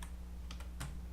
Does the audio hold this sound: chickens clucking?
no